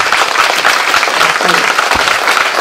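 Steady applause from an audience at a public information meeting on a CERN tunnel project fills the room, a dense patter of clapping hands that holds at an even level throughout.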